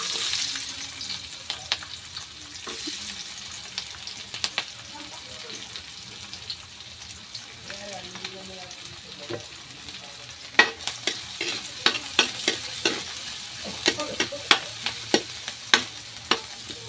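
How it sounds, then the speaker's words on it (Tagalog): Garlic and onion fry in a pan for a simple eggplant and tofu adobo, a soft sizzle with scattered utensil clicks and taps that grow sharper later, faint water running in the background. "Lagyan natin yung ating bawang sibuyas."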